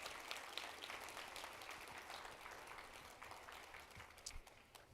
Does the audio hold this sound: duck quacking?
no